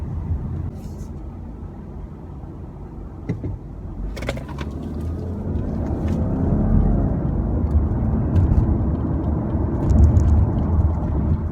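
A 2020 Subaru Legacy XT turbo accelerating at half throttle, a low engine hum and road rumble heard from inside the car that swells gradually as revs climb, with a couple of brief knocks and clicks early on.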